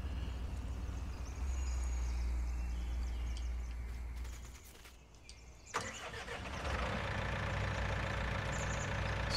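A tractor engine in Farming Simulator 19 rumbles at a low idle, dips almost silent, then fires up with a sharp catch into a louder, busier running note that continues to the end.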